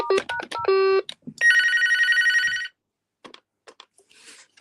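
A desk telephone plays its second ringtone. A short stepped melody of electronic beeps leads into a loud, rapidly pulsing warble that rings for over a second, followed by faint clicks.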